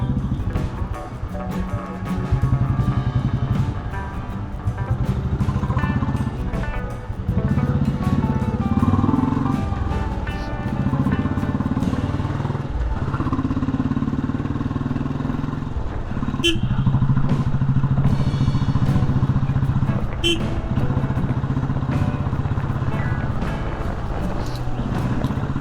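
A motorcycle rides through Bangalore traffic from BTM Layout to Marathahalli, its engine running steadily throughout with clattering and road noise, close and fairly loud.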